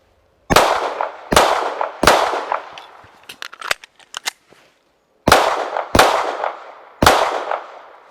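Pistol shots from a Masada 9S and a Hellcat fired at a target: loud, sharp, near reports, three evenly spaced, a cluster of faint clicks, then three more, with no talking.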